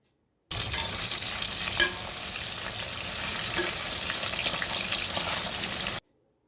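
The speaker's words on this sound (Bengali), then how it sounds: "প্রত্যেকটা মাছ বন্ধুরা ভালো করে ভেজে নেব" Pieces of rohu fish fry in hot oil in a pan, a continuous bright sizzle with occasional stirring clinks and one sharper pop, close and steady throughout.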